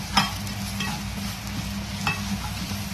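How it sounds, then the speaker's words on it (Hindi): Spicy red masala for an Agri chicken curry roasts in a pan with a steady sizzle, while a spoon stirs and scrapes against the metal at a few distinct points. "उसके बाद ये तीखा मसाला यानी कलर वाला वो डालेंगे और ये भी अच्छी तरह से भून लेंगे।"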